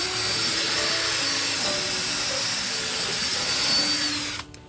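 A Desiderio Plus steam cleaner scrubs a dirty car seat with a loud, steady mechanical whir and hiss, close and continuous, then cuts off abruptly at the end.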